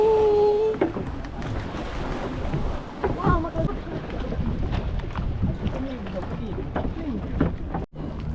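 A small boat runs over the sea on a snorkelling trip near Perhentian, its engine and water rush droning under wind buffeting on the microphone, with people talking over the noise.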